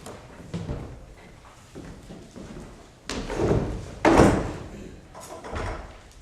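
During a high school stage production of A Christmas Carol, a door is shut on stage, with shuffling footsteps and movement leading up to a couple of solid thuds and a final bump, heard from an audience distance.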